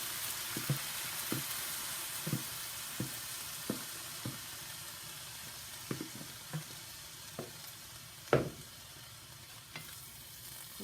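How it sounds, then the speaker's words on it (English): Rainbow noodles being stirred with sauce in a sizzling pan, a steady fry hiss under repeated scraping knocks of the utensil against the pan, about a dozen distinct strokes with one louder clack near the end. "And give it all a stir."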